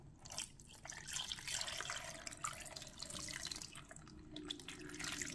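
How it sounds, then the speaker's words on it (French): Half a litre of water poured into a pot of Ivorian-style John Dory fish soup, a steady faint splashing and trickling stream that runs unbroken throughout. "Ensuite, là, je vais rajouter un demi-litre d'eau"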